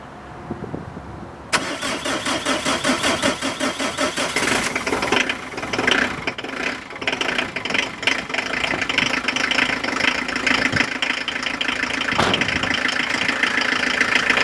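A large diesel vehicle engine, on a barely sufficient battery in cold mid-December weather, cranks and catches after a short quiet moment, then settles into a loud, steady, rattly idle close by.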